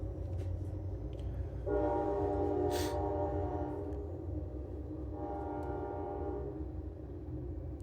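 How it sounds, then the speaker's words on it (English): A train passes with its horn sounding in long sustained blasts, steady rumbling rail noise underneath and a second horn blast later, moderately near. "There's the train."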